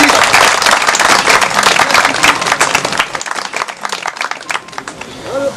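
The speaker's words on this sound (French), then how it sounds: "Allez, applaudissez-les," Audience applause for the winners at an international pole-fishing competition results ceremony, a dense burst of clapping from a crowd that thins out and fades toward the end.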